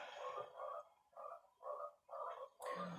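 Repeated frog croaks from Fortnite, five or so bursts in an even rhythm, fairly loud and close, with no voices over them.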